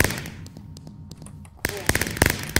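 In a Minecraft Mineplex mini-game, sharp explosion blasts and crackling bursts ring out, quieter at first and then a louder cluster of bangs.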